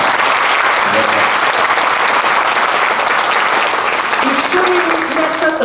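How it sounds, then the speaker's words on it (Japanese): Audience at a motorcycle trial championship talk show breaking into sustained applause, loud and dense, with voices and a faint tone heard beneath the clapping. "ちょっとすいません、拍手いただいていいですか。"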